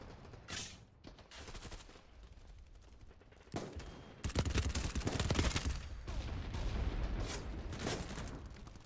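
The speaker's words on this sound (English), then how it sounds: "I'm getting sniped at right now." Gunfire in the shooter game BattleBit Remastered: distant isolated shots early on, then a long, dense spell of rapid shooting that keeps rolling to the end.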